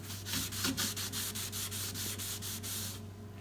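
A rag rubs stain-sealer onto the wooden top of a 1940 Zenith radio cabinet in repeated even back-and-forth strokes, close and steady over a faint background hum, stopping at the end.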